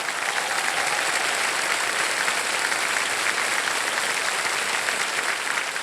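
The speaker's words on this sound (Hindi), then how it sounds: "तालियां बज जाए इनके लिए।" Studio audience applause for a contestant on the quiz show Kaun Banega Crorepati, a steady dense wall of clapping from a large crowd, loud and even throughout with no speech over it.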